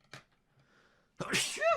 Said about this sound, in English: you ever sneeze in Russian?